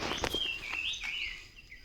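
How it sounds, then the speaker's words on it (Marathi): Sparrows chirp and trill in a quick, bright series, fairly close, in a cashew orchard, with faint rustling steps underneath and no talking. "इकडे चिमण्यांचे आवाज पण येतात"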